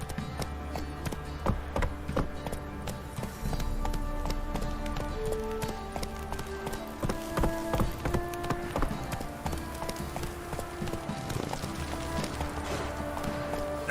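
Roach, a horse in a video game, gallops with rapid, steady clip-clopping hooves close up, a continuous rhythmic drumming over background music.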